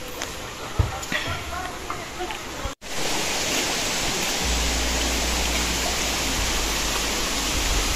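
A river flowing through a forest resort, with steady broadband rushing water that swells louder after a brief break and gains a deep low rumble partway through.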